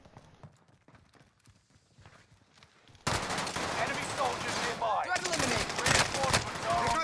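Sudden bursts of rapid automatic gunfire in a video game erupt loud and close after a quiet stretch of faint talk, with heavy impacts and rattling shots continuing to the end.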